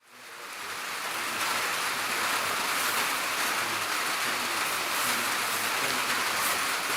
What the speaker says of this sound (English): It's been drizzling for about the last 3 hours